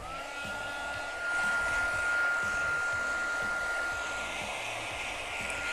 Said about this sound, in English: So I'm going to just use my regular heat gun.